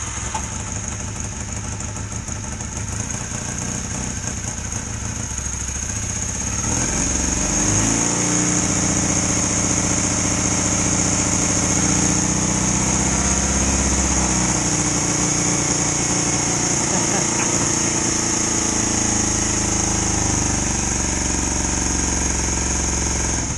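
A Honda XR125 twin motorcycle engine runs on only one cylinder, a steady uneven putter heard up close. It builds slightly louder partway through, then holds a continuous, slightly rough idle with no talk.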